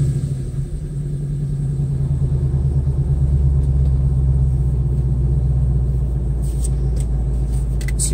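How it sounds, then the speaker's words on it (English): Heard from inside a Mustang, a truck following close behind gives off a loud, steady low engine rumble that holds throughout, with a faint rattle near the end and no voices. "It's the truck behind me."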